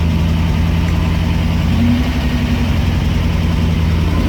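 A 1972 Range Rover engine running warm in low range with a faint steady transfer box whine riding over the low engine drone, close and continuous without talk.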